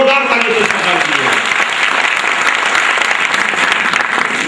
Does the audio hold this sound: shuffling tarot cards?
no